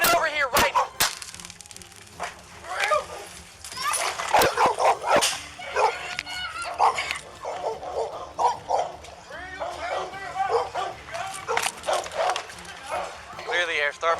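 A dog barks and yips repeatedly in a yard during a tense police confrontation, mixed with loud shouting voices throughout.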